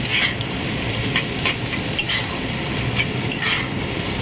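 Prawns and vegetables stir-fried together in a pan for fried rice, making a loud, continuous sizzle close by, broken by regular scrapes and clinks of the spatula, with no talking.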